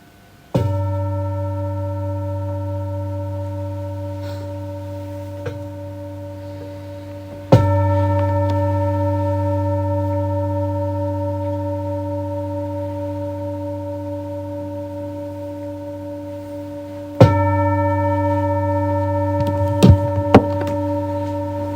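A meditation gong rings three times, each stroke blooming into a long, pure, sustained tone that slowly fades, close and clear against near silence.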